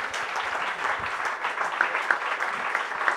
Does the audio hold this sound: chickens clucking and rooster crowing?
no